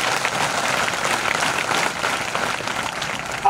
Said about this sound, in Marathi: एकदा शिक्षकांसाठी जोरदार पोरांनी टाळ्या द्या.